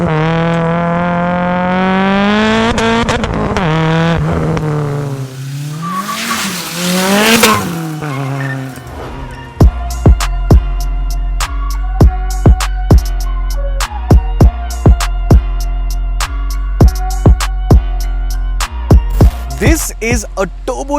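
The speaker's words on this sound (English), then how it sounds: "This is a turbocharged Mitsubishi Seria built by Race Concepts, and it now makes 400 horsepower." A 400-horsepower turbocharged Mitsubishi Sera built by Race Concepts revs hard, its engine note swooping up and down loudly, then settles into a steady roar broken by sharp repeated pops and clicks.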